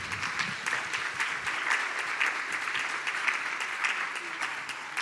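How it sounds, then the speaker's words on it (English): An audience gives a round of applause for the gentlemen being honored at an iSPI event, the dense clapping steady and fairly close for several seconds with no talking. "So let's give these gentlemen a round of applause"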